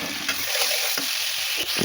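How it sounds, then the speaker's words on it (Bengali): Onions sizzle steadily in hot oil in a pan while pasta is being cooked, with a dense crackling hiss broken by a few soft stirring taps. "তেল আর পেঁয়াজ দিয়ে দিলাম। এগুলোকে ভালোভাবে ভেজে নেব।"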